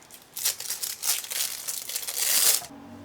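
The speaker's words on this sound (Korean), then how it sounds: "먼저 비닐을 벗기겠습니다" Close crinkling and tearing of thin plastic wrapper being peeled off ham, in a series of irregular rustling bursts that build to a louder peel before stopping.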